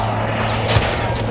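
Gunfire in the Call of Duty Warzone video game, a short burst of shots over a low steady game rumble, fairly loud and close.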